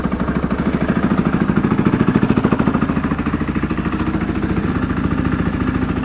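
A cold 2021 KTM 500 EXC dirt bike fitted with a Fastway Pro Moto billet endcap muffler idles, a steady, rapid low thumping exhaust pulse, close and even throughout, with no voices.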